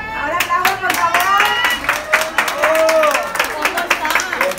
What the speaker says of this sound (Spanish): Ahora aplausos, por favor.